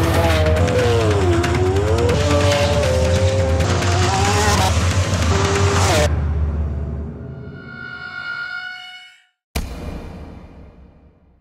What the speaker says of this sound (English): we happen to have an Aventador, which is the fastest and most powerful Lamborghini ever produced